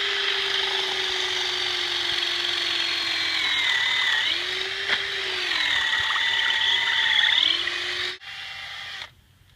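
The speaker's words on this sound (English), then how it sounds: "then go ahead and drill your hole" A cordless drill bores a tap hole into a maple tree trunk, a loud whining motor that dips in pitch under load as the bit bites into the wood, then stops abruptly, with no talking.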